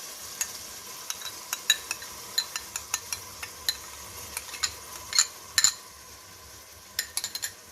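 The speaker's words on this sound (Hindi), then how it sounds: "ये भून रही हूँ, इसको अच्छी तरह भूनना है साथ में" Spices with garlic and yogurt fry for a Bengali masala fish curry, a faint soft sizzle broken by sharp metal clinks and scrapes of a spoon against the pan at irregular intervals.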